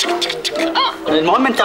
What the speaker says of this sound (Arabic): حتى اسمع صوت العصافير